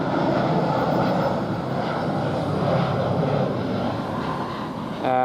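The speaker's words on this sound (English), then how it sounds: "Now we've got an EasyJet coming in" An EasyJet airliner coming in to land at Luton Airport makes a continuous, fairly loud jet rumble and whine, heard from near a railway station, with a brief tonal sound at the very end.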